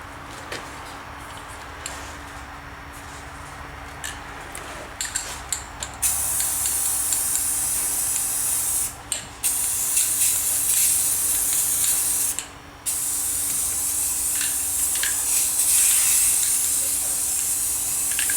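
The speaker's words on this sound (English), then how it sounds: "So what I'm going to do is spray it. I'm going to spray it green." Aerosol spray can coating a white model railway tree green, a steady close hiss running in long bursts with brief pauses between sprays.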